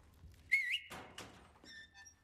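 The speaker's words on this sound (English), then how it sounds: "did I just whistle at her like a dog?" A short whistle in the video game Resident Evil 4 Remake: a faint, quick rising-then-falling tone, followed by a couple of soft thuds and a brief higher squeak, with no talk.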